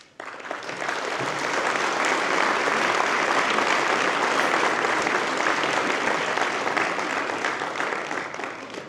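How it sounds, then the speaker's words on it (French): An audience at a municipal New Year's greetings ceremony applauds for young people, a loud, sustained wall of clapping that rises quickly and holds steady throughout. "Merci pour eux et surtout par vos applaudissements."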